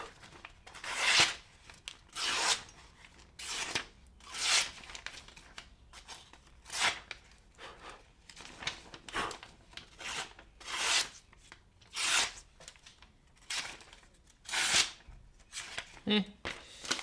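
A knife blade is sharpened on a rock with long, rhythmic, gritty rasping strokes repeated steadily about once a second, close and prominent, with faint talk in the background.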